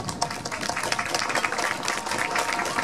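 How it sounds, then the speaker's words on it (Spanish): Audience applause for the women at a Women's Day celebration in Chala, a dense patter of many hands clapping at moderate volume, continuous for about three seconds. "Un aplauso para ustedes"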